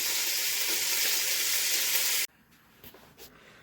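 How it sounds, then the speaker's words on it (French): Morteau sausage and meat frying in a pan give a loud, dense sizzle that stops abruptly partway through, leaving faint clinks and quiet room sound. "Donc ça c'est cuire la saucisse de morteau"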